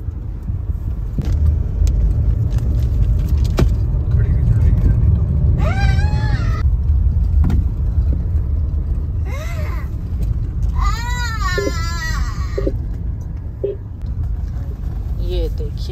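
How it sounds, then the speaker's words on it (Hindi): A car climbs an uphill mountain road toward Matheran, its engine a steady loud low rumble throughout, with occasional rattles, while people talk and a voice cries out over it. "ये देखिए चढ़ाई चढ़ रही है गाड़ी पहाड़ों के बीच में"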